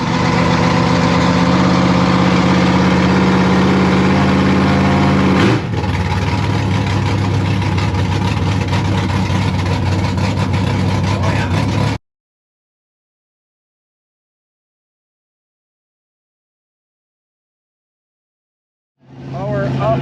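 A truck engine idles at Dragway 42 ahead of a tech inspection pass, a loud, steady low rumble with a shift partway through. It cuts to silence for several seconds, then returns briefly at the end.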